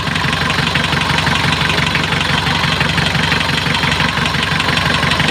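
A 24-year-old engine, model 2000, overhauled in 2019, idles steadily during a tune-up and tappet adjustment, giving a continuous mechanical rumble with fine rapid ticking. It stays loud and even throughout, with no voices.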